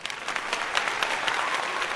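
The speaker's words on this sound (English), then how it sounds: "Just clap it up." Steady applause from a crowd, dense and continuous, fairly loud and close, with no voices over it.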